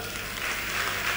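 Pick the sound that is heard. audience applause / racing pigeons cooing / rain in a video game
audience applause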